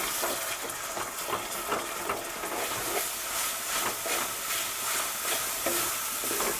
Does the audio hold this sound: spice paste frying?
yes